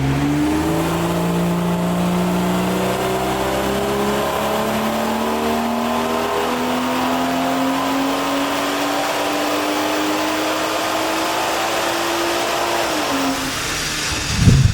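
BMW M140i with B58 engine, Stage 2 Plus big-turbo tune, making a baseline pull on a dyno: one loud, continuous engine note climbing steadily in pitch through the rev range, then cutting off at the end with a brief clatter.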